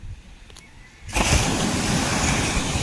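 Quiet background gives way to a sudden loud rush of sea waves washing in, then a steady, close surf roar.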